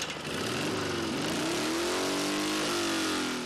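A motorcycle built on an old Dnipro frame revs at the Taras Hill bike festival in the Cherkasy region, its engine note climbing and wavering in pitch, loud and close for a few seconds with no talking.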